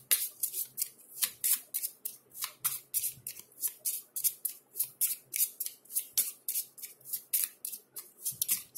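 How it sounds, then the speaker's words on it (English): Playing cards are shuffled by hand in a quick repeated rhythm of crisp riffling bursts, close and fairly quiet, continuing for several seconds without talk. "take the rest of the cards, you know, the diamonds and spades and clubs, and shuffle"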